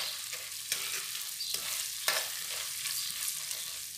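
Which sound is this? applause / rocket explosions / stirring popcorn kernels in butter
stirring popcorn kernels in butter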